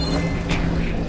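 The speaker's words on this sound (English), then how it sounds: "They all explode." Machines blowing up in Horizon Forbidden West, a loud, dense burst of booming, crackling blast noise with mechanical rattling that fills the whole short moment.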